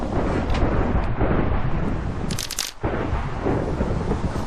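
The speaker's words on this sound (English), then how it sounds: "I hope this storm finishes soon. It's quite loud." A Minecraft thunderstorm fills the space with a dense, loud wash of rain and rumbling, broken by a sharp crackling burst near the middle before the steady roar resumes.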